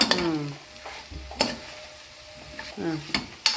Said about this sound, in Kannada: ಹಾಂ ಈಗ ಅರಿಶಿನ ಎಲ್ಲ ಹಾಕ್ಬಿಟ್ಟು ಒಂದ್ಸತಿ ಮಿಕ್ಸ್ ಮಾಡ್ಕೊಳ್ಬೇಕು.